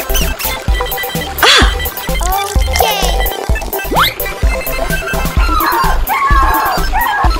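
A cartoon dog barks repeatedly in a 3D animal slide video game, loud yips and woofs over bouncy game music and sound effects.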